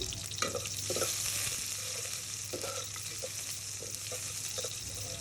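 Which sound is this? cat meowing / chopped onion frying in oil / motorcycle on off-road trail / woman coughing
chopped onion frying in oil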